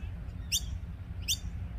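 Two short, bright bird chirps about a second apart over a low, steady background rumble, with no talking.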